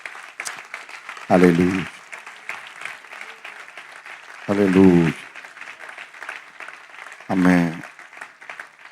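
Congregation clapping through an evangelical church service, a steady wash of applause running the whole time while voices call out loudly three separate times over it.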